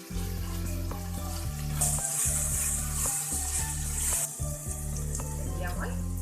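Cumin, carrots, capsicum and peas are fried and stirred in a pan for a matar pulao. They make a steady, close sizzle with occasional scraping and stirring knocks, and a constant low hum runs underneath.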